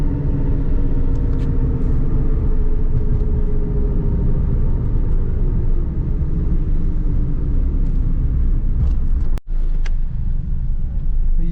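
A car fitted with new coilovers on a test drive gives a steady, loud road rumble with engine drone that runs throughout, broken only by a brief dropout near the end.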